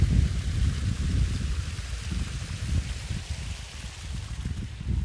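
Irrigation water running into a groundnut field, a steady low rushing and gurgling flow that stays loud and continuous throughout, with no voices.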